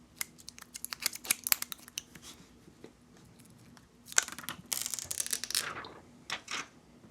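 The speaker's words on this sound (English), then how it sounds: "here is the part that I'm excited to do, the peel off" Protective film peeled off a Samsung Galaxy S22 Ultra, a series of close crackling, tearing bursts in short runs with brief pauses, crisp and near.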